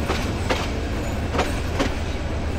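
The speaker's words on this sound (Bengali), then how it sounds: "ট্রেন ছেড়ে দিল এই গৌরীপুর জংশন থেকে" A passenger train pulls out of Gouripur Junction, its loud, close rumble running steadily with a few faint rail clicks and no pauses.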